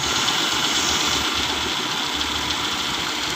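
Broadband vacuum hissing from a Nissan Sentra engine rushes over a low, steady idle rumble, continuous and close-up.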